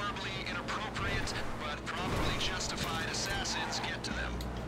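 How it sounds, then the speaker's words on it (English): In GTA Online, machine guns fire in rapid bursts amid rumbling engine and explosion-like booms, heavily layered and busy, with a voice talking over the action. "I'm pressing left bumper and shooting"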